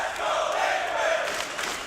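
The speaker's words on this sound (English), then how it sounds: "The crowd are loving it, Henry." A large arena crowd at a Counter-Strike esports match in Miami between Astralis and Team Liquid roars and cheers in a dense, sustained wash of voices that swells slightly and carries on without a break.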